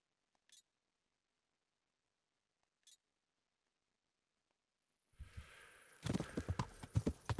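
Horse hooves clip-clop in the Kingdom Come Deliverance video game, a brief pair of soft taps early on, then a burst of close, loud, rapid hoofbeats over rustling ground noise in the last seconds.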